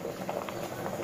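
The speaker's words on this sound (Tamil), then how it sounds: "அரிசி எல்லாம் போட்ட பிறப்பு நல்லா கொதிச்சுட்டு இருக்குது" Rice milk porridge (paal kanji) boiling in a pot, a soft steady bubbling and popping patter heard close and quiet throughout, with no talking.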